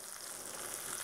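Liver frying in butter in a pan with apple and onions, Berlin style, a steady close hiss of sizzling fat that holds evenly through a brief moment with no voices.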